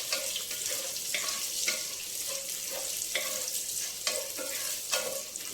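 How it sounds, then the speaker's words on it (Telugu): Chopped onions frying in a pan for pudina (mint) rice, cashews already in, give a steady broadband sizzle with occasional stirring scrapes and clinks, loud and close, with no voices. "ఉల్లిపాయలండి, ఇవి వేయించుకోవాలి."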